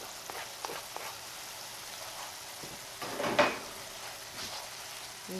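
Chopped onions frying in a pan for a Central Pennsylvania barbecue recipe, a steady low sizzle with a brief louder crackle partway through and light clinks around it.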